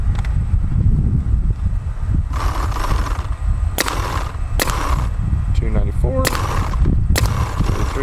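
A Planet Eclipse Geo 3.5 paintball marker fires a handful of sharp, separate pops outdoors against steady wind noise, the shots spaced about a second apart.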